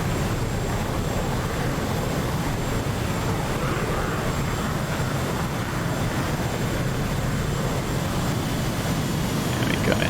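A plane lands in a multiplayer flight simulator game, with a steady loud engine drone that stays constant throughout and no voices.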